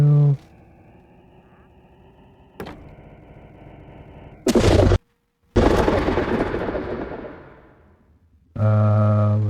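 An explosion in the Minecraft video game bursts out as a loud, broad boom, then a heavy rumbling blast that fades out over a few seconds, set among other game noises with no talk over it.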